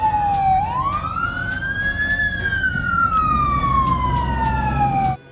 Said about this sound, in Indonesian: Wih, dan ada pemadam kebakaran.